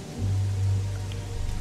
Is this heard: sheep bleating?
no